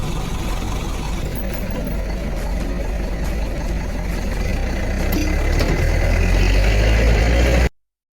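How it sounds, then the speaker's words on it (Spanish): An old bus's heavy diesel engine idles and rumbles nearby, a steady low drone that grows louder toward the end before cutting off abruptly. "Aprovechando que el colectivo ya funcionaba"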